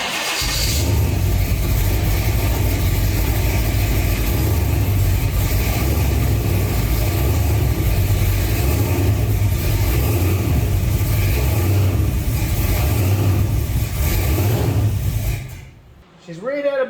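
A 1950 Mercury rat truck with a blower engine idles loudly and close for a long stretch, its surge making the rumble waver slightly before it suddenly cuts off near the end.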